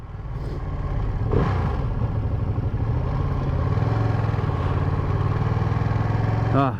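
Ducati Panigale V2 motorcycle accelerating hard with wheelie control engaged, a loud, steady engine roar rising in pitch and holding close, with a brief burst near the end.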